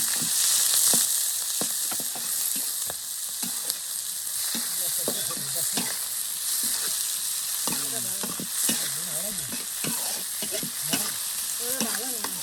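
Onions sizzle steadily in a frying pan as they soften, with a constant hiss, scraping stirs and clinks of the utensil against the pan, and a few brief spoken words over the cooking.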